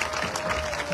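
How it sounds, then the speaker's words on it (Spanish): Crowd at an outdoor campaign rally for a municipal presidential candidate in Sahuayo breaks into a brief, dense burst of applause, loud and close. "Un aplauso para nuestro candidato"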